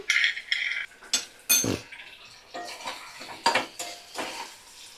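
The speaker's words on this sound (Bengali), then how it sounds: "সুন্দর করে মশলাটা কষিয়ে নিচ্ছি এবার" Masala and potatoes being stir-fried in a pan, heard as loud irregular metal scrapes and clanks of a spoon against the pan with only a faint sizzle between strokes, close and without speech.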